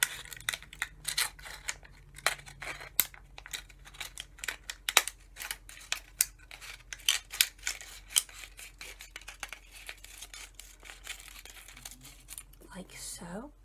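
Small scissors snip repeatedly around an engraved poppy hanger shape, a close run of sharp crisp cuts with papery crinkling between them, in an otherwise quiet room.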